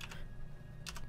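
Two quick bursts of keystrokes on a computer keyboard as a console command is typed into Factorio, faint and close, with a brief pause between them.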